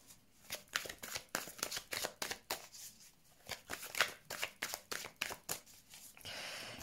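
Oracle cards shuffled by hand for a weekly reading, a quick run of crisp riffling slaps and flutters repeating in bursts, close and clear, ending in a softer rustle.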